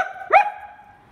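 A person imitates a dog with one short, loud bark that rises sharply in pitch and trails off into quiet.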